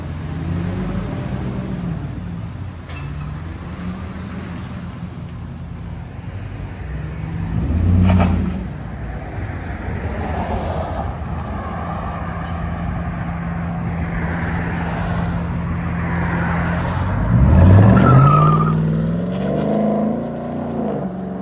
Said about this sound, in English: 2021 Ram 1500, true dual straight pipe with an X pipe, and black double wall tips